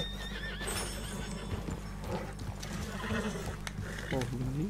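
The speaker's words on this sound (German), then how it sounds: "Ist das nicht das Pferd, das wir gefangen haben?" A horse whinnies in the Red Dead Redemption 2 video game, with a rising call near the start and another near the end, over clip-clop hooves and steady game background noise, with no talk.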